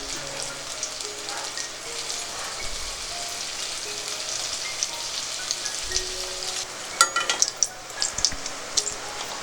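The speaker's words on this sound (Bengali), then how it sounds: "বেশ একটু লাল করে ভাজা হবে।" Chhana (paneer) fries in plenty of hot oil in a wok, giving a continuous close sizzle and crackle, with a few sharper pops and clatters near the end.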